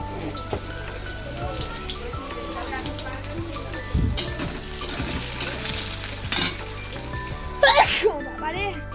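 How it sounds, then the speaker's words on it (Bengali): Cooked rice fries in oil and ghee, a continuous crackling sizzle with scraping stirs, under background music and a nearby voice. "এদিকে ভাতটা ভাজা করতে থাকি আমি"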